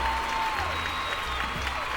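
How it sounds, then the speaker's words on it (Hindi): Steady audience applause at the Green Cinema Awards 2021 show, continuous even clapping throughout with a faint tone above it. "बीच में काजल रघवानी जी भी आ गई है, जोरदार तालियां।"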